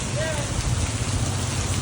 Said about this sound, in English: Raining really heavy.